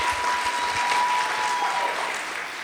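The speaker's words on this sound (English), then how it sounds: "Can we give them a round of applause," Loud, steady applause from an audience at a live storytelling event in Nairobi, a dense clapping wash that holds for a few seconds and eases slightly at the end.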